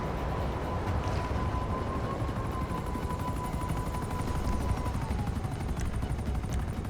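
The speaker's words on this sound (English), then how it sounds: "You turn those yacht defenses on and he's going to shoot that helicopter right out of the sky." Yacht defenses in GTA 5 firing at a helicopter: a steady, loud rotor-like roar fills the whole stretch, with a few faint sharp bursts of gunfire near the end and no talking.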